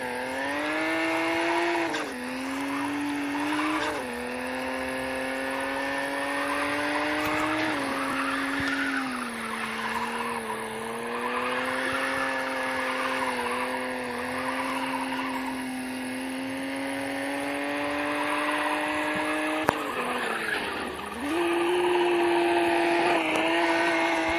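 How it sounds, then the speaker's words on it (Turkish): Simulated car engine in the Real Drift game drifting, a steady high whine that drops and climbs again at gear shifts, alone and unbroken throughout. "Bakın şimdi vites yükselsin curuk diyor."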